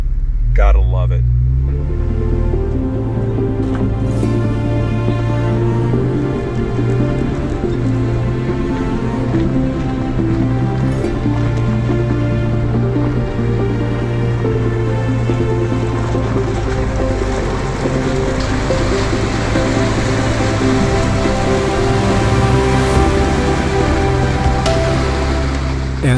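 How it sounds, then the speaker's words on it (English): A truck fords the third water crossing on Medano Pass, its engine holding a steady, loud low rumble while water churns and splashes around the wheels throughout. "coming across the third water crossing here on Medano Pass"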